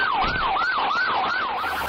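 Police sirens wail in a slow-speed chase of a stolen ambulance through Ohio streets, a loud, steady rising-and-falling siren repeating in even cycles over faint road rumble, with no talk.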